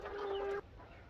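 Chickens in a chicken house where local hens are raised for laying, giving a steady tonal call or cluck that holds for about half a second and then cuts out, leaving faint background noise in the barn.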